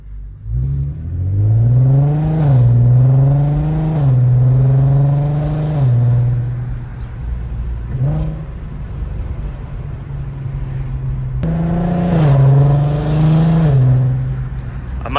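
A Volkswagen MKV Golf R32 with a resonator-delete exhaust revs loud and close, its engine note climbing and falling in several throttle blips with short pauses between, and no talking.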